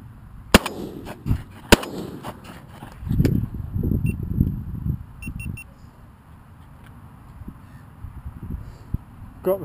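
Gunshots fired at crows over silage fields on a summer day: two sharp, loud reports about a second apart, followed by rustling outdoor noise and faint bird sounds.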